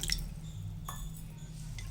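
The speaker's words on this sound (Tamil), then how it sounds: "தண்ணி விட்டுக்கலாம்." Water is poured into a semolina mixture in a bowl for a sweet, heard as a faint liquid trickle and a soft drip over a low background hum.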